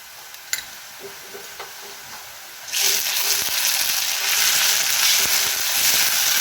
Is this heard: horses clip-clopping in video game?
no